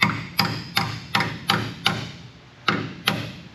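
A sharp chisel is hammered to free a seal on a Chevy K2500 truck during carrier bearing replacement: seven sharp metallic strikes at a fairly even rhythm with one short gap, close and clear, with no talk.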